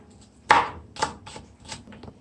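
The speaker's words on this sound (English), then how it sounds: "Here I finished cutting the green herbs." A knife chops green onions and herbs on a cutting board, with one loud sharp chop followed by several lighter, spaced cuts, close and without talk.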